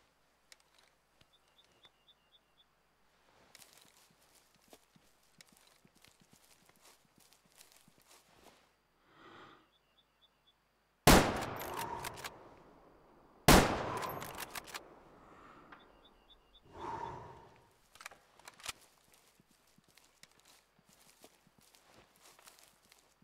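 Rifle shots in the hunting video game Way of the Hunter: two sharp, loud blasts a couple of seconds apart with ringing tails, set against quiet footsteps and soft rustling.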